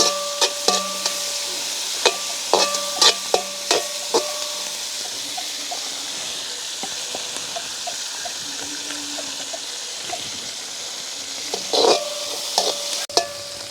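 Onions and curry chillies fry in a pan with a steady sizzle and hiss, broken by repeated clinks and scrapes of a utensil stirring, close up with no speech.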